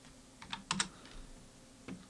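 A few light, close clicks from values being typed on a computer keyboard, with isolated keystrokes and a quick double tap, and no voices.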